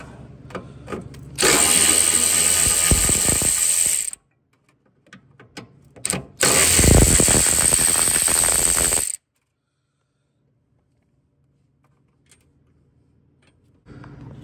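A power ratchet or impact tool with a 13 mm socket buzzes loose motor mount bolts on a 3.0L Ford Escape in two loud bursts of several seconds each, separated by quiet pauses and small metallic clicks.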